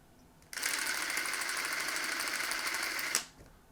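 A Krasnogorsk 3 16mm film camera runs loaded with film, its steady mechanical whir starting abruptly, holding even for about two and a half seconds, then stopping with a small click; close and alone.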